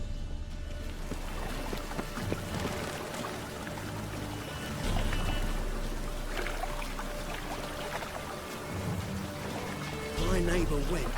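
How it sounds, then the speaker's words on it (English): Rain falls steadily in the open world of The Witcher 3, a constant hiss and patter with low rumbling underneath throughout. "And it's raining again."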